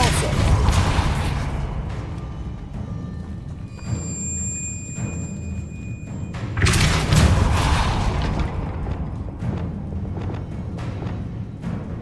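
Spell explosions from the Bombarda curse in a Harry Potter video game during a goblin rebellion fight, heavy booming blasts mixed with game effects and a voice talking over them.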